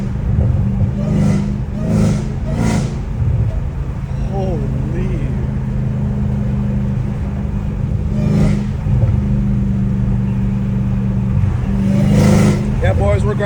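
A catless Dodge Challenger Hellcat Redeye exhaust rumbles and revs at night in a small park, a loud steady drone with short sharp rev bursts, while someone talks and exclaims over it nearby.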